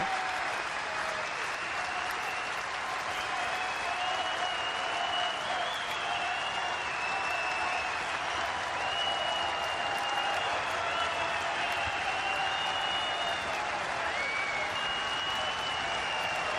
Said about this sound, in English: It's getting quite the applause.